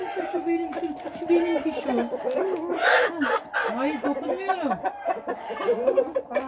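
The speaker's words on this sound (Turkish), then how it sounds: "O bizim eski tavuk." Ameraucana chickens in a coop, clucking and calling in a busy overlapping chorus with a few drawn-out, crow-like calls, fairly close and lively throughout.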